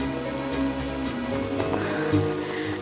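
Heavy rain falls steadily in a continuous dense hiss with patter on surfaces, moderately loud and unbroken, with a low hum underneath and no voices.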